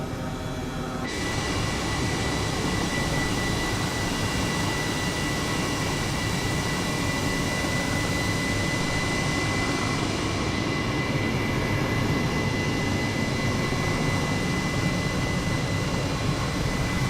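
H135 helicopter engine in flight in Microsoft Flight Simulator, flying from La Seu d'Urgell, Spain to Andorra, a loud, constant turbine roar with a steady high whine, unbroken for the whole stretch.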